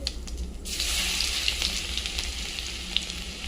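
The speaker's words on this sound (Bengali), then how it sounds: "দেবো জিরে ফোড়ন, শুকনো লঙ্কা ফোড়ন, আর দেবো একটু হিং ফোড়ন। দেবো রসুন কুচো," Cumin seeds, dried chili, asafoetida and chopped garlic hit hot oil in a kadai, bursting into a sudden loud sizzle that settles into steady crackling frying with occasional pops.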